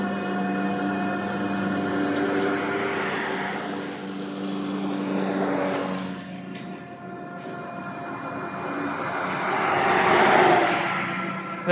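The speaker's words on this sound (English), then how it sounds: "Really making the motor work, but it's doing a really great job." Blix Packa Genie dual-battery cargo e-bike under heavy load, its motor whirring with a steady drone and harmonic whine that swells and fades as speed drops, mixed with road and wind rumble.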